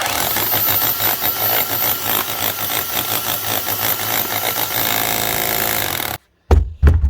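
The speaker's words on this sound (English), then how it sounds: "It's definitely hammering." A Makita rotary hammer drill running loud and close for about six seconds in a rapid continuous hammering rattle, then stopping, followed by two brief bumps.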